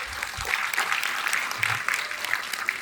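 A seated audience at a talk breaks into applause, a steady wash of clapping at moderate volume lasting a few seconds.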